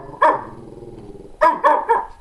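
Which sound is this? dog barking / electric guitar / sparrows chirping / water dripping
dog barking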